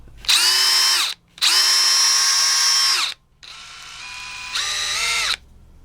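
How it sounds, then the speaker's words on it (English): A DeWalt DCD777 cordless drill whirs loudly in three bursts drilling 8mm holes, the pitch dipping as the bit bites, with short pauses between runs. "just gonna drill a couple 8mm holes."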